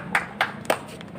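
Brief claps at a stage event during a local political program, a few distinct hand strikes spaced apart rather than sustained applause, faint and fairly close.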